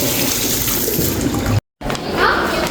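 Water running steadily from a tap while hands are washed after a meal, close and fairly loud, with a brief silent gap before the flow resumes and voices talking over it.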